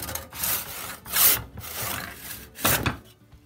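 A hand saw cuts through apple wood to trim a hammer handle, giving rhythmic back-and-forth rasping strokes, close and clear with short pauses between them.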